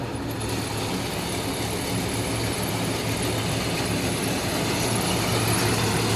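A sugarcane harvester's engine runs steadily throughout with a deep, constant rumble and broad mechanical noise, close by, with no talking.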